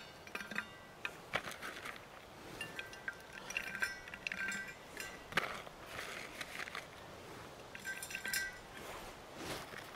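Dried pieces of birch chaga are poured into a thermos, giving a scattered run of light clinks and hard little clicks at close range, with no talking.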